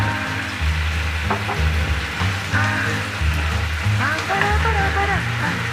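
Water and sugar poured into a hot pan of holy basil sauce for crispy snakeskin gourami, producing a continuous loud sizzle and bubbling with small splashy bursts, under a steady low hum.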